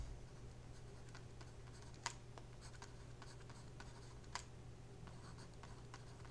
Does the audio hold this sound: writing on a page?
yes